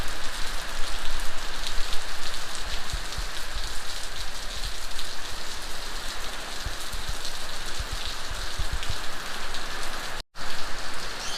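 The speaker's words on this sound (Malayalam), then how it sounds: "പക്ഷേ മഴ നല്ല രസമുണ്ട് കേട്ടോ, അടിപൊളി മഴയാണ്" Heavy rain pours steadily onto surfaces nearby, a dense, loud, unbroken hiss lasting throughout with only a momentary gap near the end and no voices.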